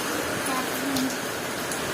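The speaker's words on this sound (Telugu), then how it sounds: "ఏం గింతగానం కొడుతుంది ఇలా వర్షం." Heavy rain pours down in a steady, dense hiss that fills the space evenly, loud and continuous throughout.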